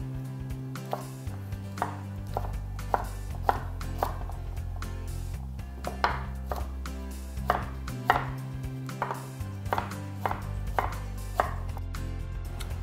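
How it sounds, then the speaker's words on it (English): Knife chops a peeled vegetable into cubes on a cutting board, a steady series of crisp, close taps at an even rhythm over a low background hum, with no talking. "Then we're just gonna cube it up."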